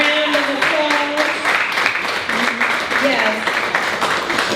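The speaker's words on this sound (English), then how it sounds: "Please join me in giving our panelists a round of applause." An audience at a panel discussion applauds the panelists: a dense, steady wash of clapping that lasts the whole stretch, with voices calling and cheering over it.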